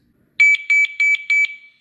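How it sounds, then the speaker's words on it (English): Alarm alert sounding on a Hytera PNC-370 radio: four short, bright electronic beeps in an even rhythm, loud and close against silence. "So as you can see, I'm receiving a beep."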